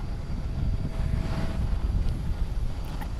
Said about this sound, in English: Coming in is Japan Airlines Flight 302 from FUK. It is a 1 hour and 28 minute flight aboard an Airbus A350-900